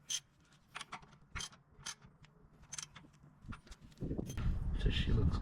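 A ratchet clicks in quick bursts while tightening the rear shock absorber bolt on a Holden Commodore VT/VX/VY/VZ, close and fairly quiet, with a louder rustling clatter toward the end.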